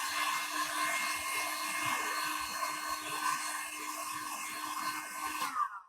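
A heat gun blows steadily and loudly on a WoodUbend moulding to soften and curve it onto glass, a continuous airy whine that cuts off abruptly at the end.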